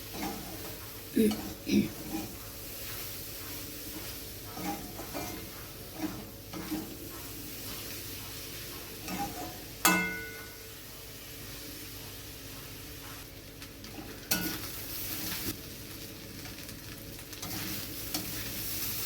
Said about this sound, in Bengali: চিনিটা আমি ভালোভাবে মিশিয়ে নিচ্ছি সমস্ত উপকরণের সাথে